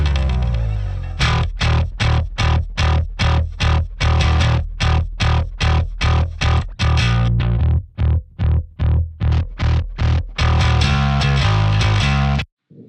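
Heavily distorted hard rock guitar played through a Celestion speaker chugs in tight palm-muted stabs alongside clean Ampeg-style bass and drums, loud and steady, with a short break before the riff resumes and rings out at the end.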